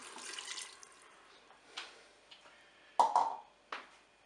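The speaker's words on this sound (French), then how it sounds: "je vais rajouter de l'eau" Water poured into a Cookeo multicooker, about 150 ml: a few short splashing bursts with gaps between them, the biggest pour near the end, close and fairly quiet.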